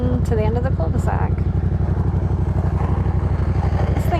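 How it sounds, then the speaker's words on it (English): A Yamaha XSR700 café racer motorcycle idles and pulls away close by with a steady, throbbing engine pulse, its rider talking over it near the start. "I'm gonna pull on the clutch, go into second, and going to the end of the cul-de-sac"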